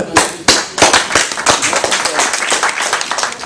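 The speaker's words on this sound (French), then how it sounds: "Je vous applaudis." Several close, sharp hand claps ring out at irregular intervals, then merge into quicker, denser clapping with voices faintly mixed underneath.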